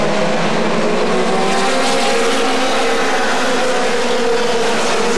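Pure Mini race cars roar past at Atomic Motor Speedway, a continuous loud engine drone with sustained high-pitched whine throughout.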